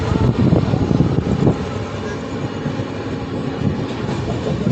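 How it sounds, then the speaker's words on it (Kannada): The Panchaganga Express, a Bangalore to Karwar train, departs Yeshwantpur with a loud, steady rolling rumble and rattle of rail cars, with faint rhythmic clatter of wheels on track throughout. "ಈಗ ನಮ್ಮ ಟ್ರೈನ್ ಯಶವಂತಪುರ ಡಿಪಾರ್ಟ್ ಆಗಿದೆ."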